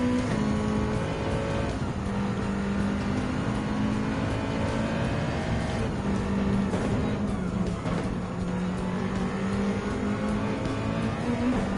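Race car engines in Gran Turismo 7 during a World Touring Car 900 race at Trial Mountain, a loud continuous droning engine roar with shifting pitch throughout.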